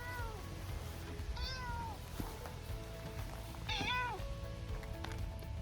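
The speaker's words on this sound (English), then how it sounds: "So Sassy is not our cat, neighbor's cat." Neighbor's cat meowing close by, three drawn-out meows spaced over several seconds against a low background hum.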